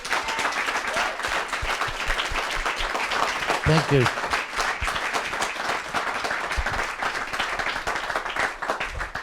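An audience applauds throughout, dense continuous clapping under a man's brief spoken thanks near the middle, filling the room at steady loudness.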